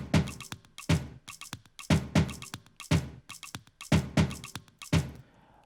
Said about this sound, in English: I have these other percussions here.